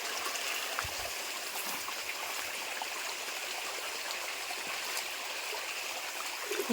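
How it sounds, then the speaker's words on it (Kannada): Steady rushing of water pouring and trickling from a tank, a continuous soft flow with no voices, fairly quiet and even throughout. "ಆ ಟ್ಯಾಂಕಿಗೆ ನೀರು ಬಿಟ್ಟಿದ್ದೇವೆ ಆ ನೀರು"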